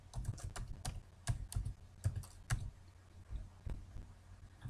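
Keys clatter on a computer keyboard while data is entered into Excel, a quick burst of close, light clicks in uneven rhythm that thins out toward the end.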